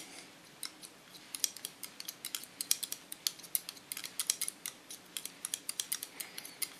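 Scissors snip through the dry ends of wavy hair during a freehand salon cut, a steady run of close, crisp metallic snips in quick irregular bursts, with no talking.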